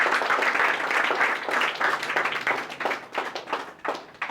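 A group of trainees claps loudly for a first-place winner at an SSC GD training session, a dense, sustained round of applause.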